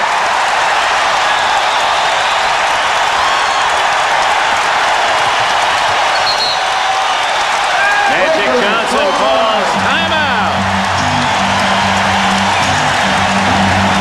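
Crowd at a 1991 Lakers versus Warriors playoff basketball game in the Warriors' home arena, a steady broad roar of cheering and noise throughout with an announcer talking over it.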